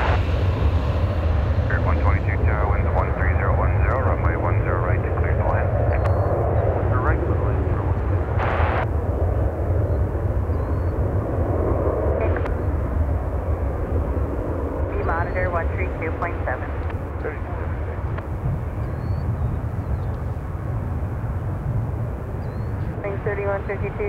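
The last Boeing 747 ever built comes in to land at Chicago O'Hare, a steady low jet rumble running under intermittent air traffic control radio voices throughout.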